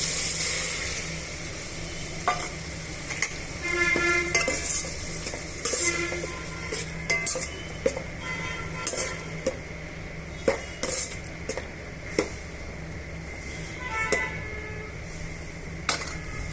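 Ginger garlic paste being stirred into fried onions and green chillies for mutton biryani, with repeated metal spoon scrapes and clinks against the pot over a steady sizzle, close and continuous with no talk.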